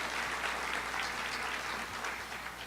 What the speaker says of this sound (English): we'll give them a round of applause just for the work that they've been doing.